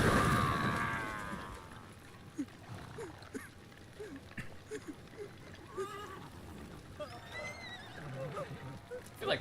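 In the game Edo Limbo, a horse whinnies loudly at the start, followed by scattered clops and faint bursts amid low background noise, with a voice talking throughout.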